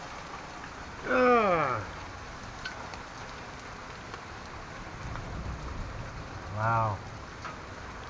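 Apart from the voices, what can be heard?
rain falling after hail storm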